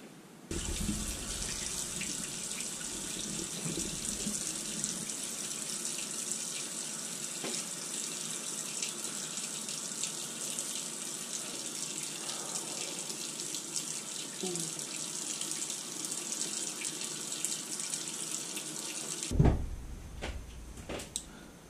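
Tap water runs steadily from a faucet into a sink while a face mask is rinsed off, a constant close hiss with faint splashing for most of the stretch before it stops abruptly near the end.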